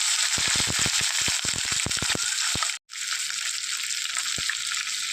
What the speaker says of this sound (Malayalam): വറ്റൽമുളകൊക്കെ മൂത്ത് വരുന്ന സമയത്തേക്ക് നമ്മൾ എടുത്തു വെച്ചിരിക്കുന്ന പച്ചമുളക് ചേർത്ത് കൊടുക്കാം